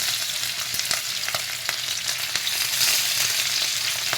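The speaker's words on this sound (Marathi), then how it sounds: "ते आता गरम तेलात भाजायला घालणार" Katla fish coated in masala frying in a couple of spoons of hot oil, a dense steady crackling sizzle with scattered sharp pops and light stirring scrapes, close and uninterrupted by speech.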